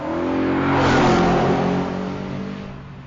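A 2013 Audi RS5's 4.2-liter V8 with 7-speed dual-clutch transmission accelerating, a loud rising engine roar that swells then eases off over a few seconds, heard alone.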